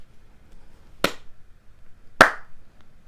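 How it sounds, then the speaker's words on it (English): A slow clap follows a recitation of Macbeth's Act 5 Scene 5 speech: two sharp, isolated hand claps about a second apart, loud and close in an otherwise quiet room. "No, not the slow clap."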